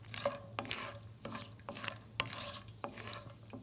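Cashews sauté in a pan with a quiet, rhythmic scraping of a spoon, repeated stirring strokes over a faint low sizzle, close by with no talking.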